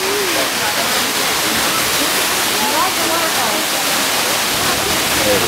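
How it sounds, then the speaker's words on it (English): A waterfall at the San Diego Zoo pours in a dense, even roar close by, with a few words spoken over the rushing water. "We're pretty good at finding all the waterfalls."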